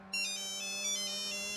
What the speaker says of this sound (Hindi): अभी किसका फोन आ गया यार?